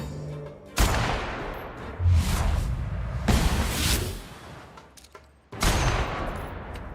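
Gunfire in The Outer Worlds comes as several loud bursts of shots separated by brief gaps, with whooshing and booming impacts between them. No voices are heard.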